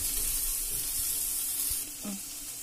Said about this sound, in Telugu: దీన్ని బాగా అడుగంటకుండా వేపుకోవాలండి